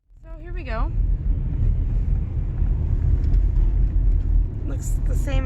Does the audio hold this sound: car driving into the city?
yes